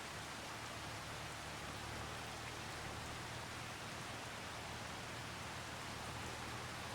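Steady rain falls in the video game Farming Simulator 25, a soft, even hiss of drops with a faint low hum beneath, constant throughout and with no talking.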